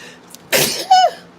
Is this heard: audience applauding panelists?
no